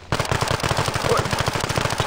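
Rapid automatic gunfire from a gun in the mobile shooter Standoff 2, a steady burst of evenly spaced shots sprayed continuously for the whole two seconds, loud and close.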